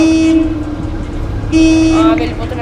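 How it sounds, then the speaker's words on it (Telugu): Steady horn tones in a car driving game, sounding in two sustained blasts with a short gap between them, over continuous engine and game background noise. "వెళ్ళిపోతున్నాడు హారన్ కొడతా"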